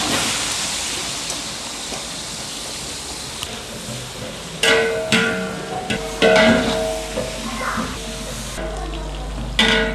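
One and a half kilos of onions fry with cinnamon, cloves and cardamom for mutton biryani. A broad sizzling hiss is broken midway by loud clattering stirring bursts from a large pot.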